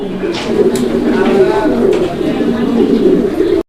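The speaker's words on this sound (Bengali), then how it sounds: "সব সময় ও ডাকের উপরেই থাকে মানে একটা সেকেন্ড ও ডাক ছাড়া নাই সব সময় ডাকে" Fancy pigeons coo continuously in a close, low, rolling murmur, while a person speaks over the birds.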